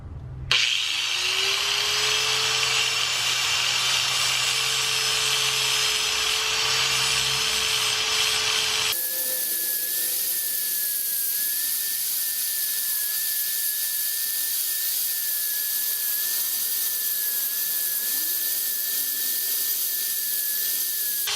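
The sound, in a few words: grinding a bike chain to shorten it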